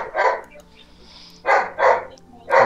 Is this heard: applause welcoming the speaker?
no